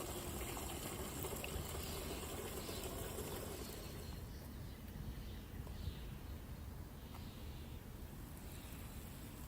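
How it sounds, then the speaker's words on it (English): Water poured steadily onto basil seedlings, a continuous close splashing and trickling wash that runs the whole time, easing slightly partway through. "for the first 7 days, I am going to water it every day"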